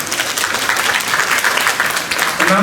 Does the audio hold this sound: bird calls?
no